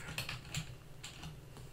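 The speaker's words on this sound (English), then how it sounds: "Now go ahead and type the following on your text editor." Someone types on a computer keyboard, producing soft, quick, irregular key clicks, quiet and close, with no talking.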